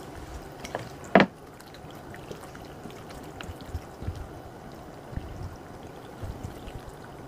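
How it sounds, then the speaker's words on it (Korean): Water is poured into a container of sliced vegetables for nabak mul-kimchi. A faint, continuous trickling stream is heard, with a brief louder splash near the start. "썰어놓은 김치통에다가 물을 부으세요."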